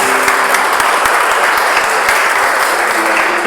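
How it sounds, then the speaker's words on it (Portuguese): A church congregation claps steadily and loudly for the whole stretch, a dense, even wash of applause at an evangelical service with no pauses. "Então dá uma salva de palmas aí para o Senhor Jesus"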